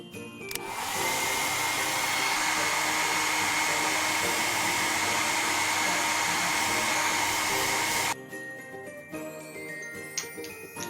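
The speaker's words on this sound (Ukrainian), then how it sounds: "Феном сушать волосся." A hair dryer blows with a steady, loud broadband whoosh and a high whine for several seconds, then cuts off abruptly, leaving faint tinkling sounds.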